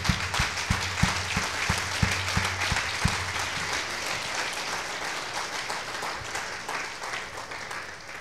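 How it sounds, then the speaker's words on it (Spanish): A church congregation breaks into sustained applause, with a few distinct early claps giving way to a dense, even wash of clapping that carries on throughout. "¿Por qué no le das un aplauso al Señor?"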